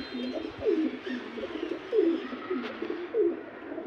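Pigeons in a cage coo in a steady series of soft, low, throaty calls, repeating about every second, close by and alone with no talk.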